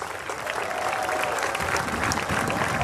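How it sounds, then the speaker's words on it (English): An audience claps for a youth softball program at closing ceremonies, a dense, steady wash of applause from a crowd that swells slightly as it goes on. "Let's give them a round of applause."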